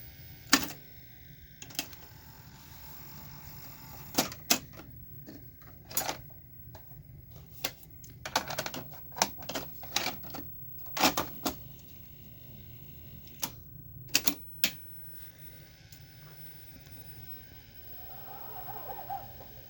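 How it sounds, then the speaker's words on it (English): A 1980 Sony SL-5800 Betamax VCR loads a Beta tape, giving a string of sharp mechanical clicks and clunks at irregular intervals over a faint steady hum. The clicks cluster more densely midway through. "let's grab a beta 3 tape and I'll demonstrate the playback on that"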